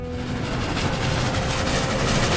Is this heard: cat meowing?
no